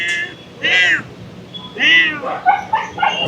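A cat in a cattery meows several times up close, loud drawn-out cries spaced a second or so apart, with a few shorter mews toward the end.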